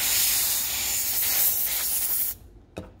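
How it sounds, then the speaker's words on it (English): Canned air duster sprayed onto a motor gear, a loud continuous close hiss for about two seconds, cutting off sharply, then a brief short puff afterward. "When I say dust off, I mean just canned air"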